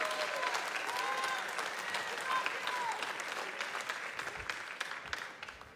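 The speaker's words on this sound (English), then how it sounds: "Can we all applaud him?" An audience at a fundraiser event applauds the founder, a full round of clapping from many hands that thins out toward the end, with a few voices over it.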